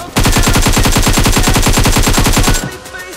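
Rapid automatic gunfire in the video game Free Fire, a loud, evenly spaced burst of shots lasting over two seconds before cutting off into a faint tail.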